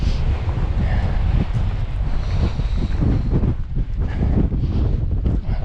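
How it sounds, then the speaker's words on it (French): Strong, gusty wind roars across the microphone at the Col de la Scaglietta mountain pass in the Alps. It makes a continuous, loud, buffeting rumble with no voices. "Il y a un vent de port."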